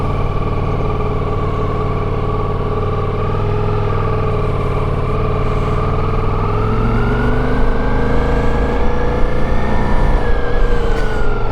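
A Ducati Multistrada V4 S motorcycle carrying a pillion passenger rides along with a loud, constant engine drone whose pitch climbs gradually as the speed builds.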